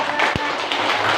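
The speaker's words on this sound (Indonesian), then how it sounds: "Beri tepuk tangan." A classroom of students claps together in a lively, close patter, with a single sharp thump partway through and the applause carrying on to the end.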